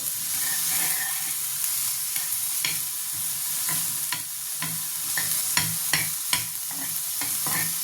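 Capsicum fries in butter with a dense, steady sizzle and hiss, punctuated by frequent sharp pops and crackles, close and fairly loud with no voices.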